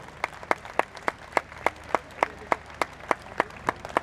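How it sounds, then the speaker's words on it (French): An audience claps in steady rhythmic unison for Raymond Labbé, a wooden-boat carpenter from Saint-Malo, at the first departure of the Hermione; sharp, evenly spaced claps continue without break, with a faint crowd murmur underneath. "on peut l'applaudir très très fort"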